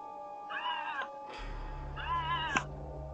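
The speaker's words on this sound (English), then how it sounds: "Bobcat out for a stroll." A bobcat at night in Englewood, Florida, gives two drawn-out, wavering yowls with a cat-like caterwaul quality at moderate distance. A steady low hum starts between the calls and continues under the second one.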